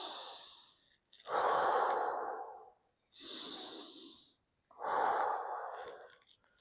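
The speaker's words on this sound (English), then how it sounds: "you should really be breathing in through the nose and breathing out through your mouth" Slow, deliberate breathing during a gentle seated chair workout for seniors: three long, breathy airflows separated by short pauses, close and clear, with no talking.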